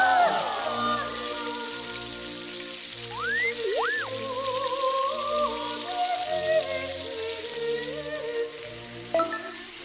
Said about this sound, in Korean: 지글지글 거리는 사운드